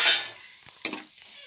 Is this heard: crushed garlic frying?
yes